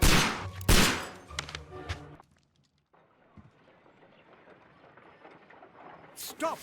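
Loud gunshots crack in quick succession in the Sherlock Holmes: Crimes & Punishments video game, followed by a quieter stretch of scuffling sounds and a final burst at the end.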